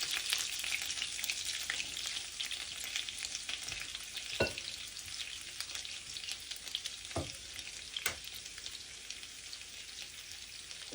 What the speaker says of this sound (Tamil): ரெண்டு பச்சை மிளகாய் சேர்த்து நல்லா வதக்கணும்